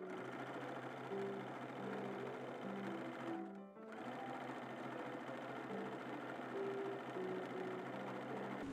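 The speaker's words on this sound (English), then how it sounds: "We're going to stitch these up." A sewing machine stitches white silk taffeta sleeves for an 1850s-style dress, a fast steady mechanical whirring and clatter, close and continuous apart from a brief pause midway.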